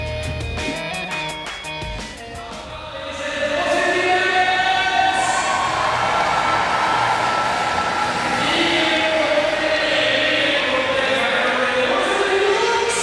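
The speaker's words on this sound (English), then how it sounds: "German crowd loving Daniel Tünte" A crowd at the Munich Mash 2015 BMX street event swells into a sustained loud cheer and roar, with a voice talking over it.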